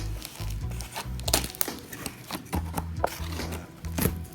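A product package is cut and opened by hand, with close crinkling and rustling of packaging mixed with a few snips and handling clicks, fairly quiet and irregular.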